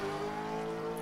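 A Chevrolet Camaro V8 supercar in a race holds a loud, steady high-rev engine note, buzzing against the rev limiter.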